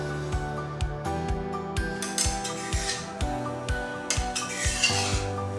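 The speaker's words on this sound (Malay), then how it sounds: "masukkan kesemua sayur-sayuran ke dalam kuali" Vegetables clatter and scrape in a cast iron wok, with repeated knocks and stirring rattles close by.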